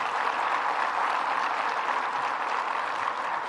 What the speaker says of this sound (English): let's give another round of applause to our mayor, Malik Evans.